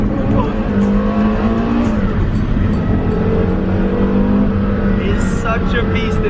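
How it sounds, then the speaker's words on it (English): Naturally aspirated V10 of a Porsche Carrera GT roaring loudly and continuously at high revs, with rising and falling engine pitch as the car slips around, plus brief tire noise near the end. "this car, naturally aspirated V10, which you can hear."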